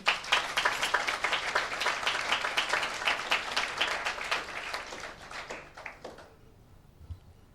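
A church congregation claps loudly together in a dense, sustained round of applause that fades out after about six seconds into quiet.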